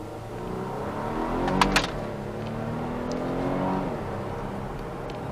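A 2020 Volvo S90 T6 AWD R-Design sedan accelerates hard from a light, its engine note rising steadily in pitch, dipping briefly at a gear shift, then climbing again, heard from inside the cabin with no talking.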